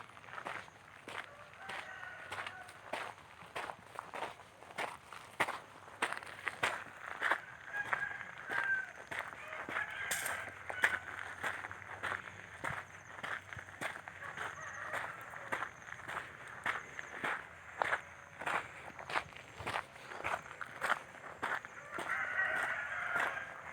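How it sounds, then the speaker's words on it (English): Several roosters crow in the distance, faint against a steady rhythm of footsteps crunching along an outdoor hiking trail around Khao Chee Chan, Thailand. "Sounds like more than one rooster there."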